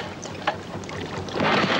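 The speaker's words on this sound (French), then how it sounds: "Remets le moteur en marche." A boat motor runs with a steady, moderately loud drone outdoors, with wind buffeting the microphone and louder near the end.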